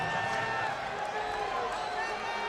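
Stadium crowd at a 2010 Lingerie Football League game, San Diego Seduction vs Seattle Mist, reacting to a hard tackle: a steady, dense roar of many voices under a commentator talking throughout.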